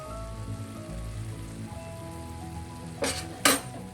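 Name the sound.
prawn curry with milk boiling in the pan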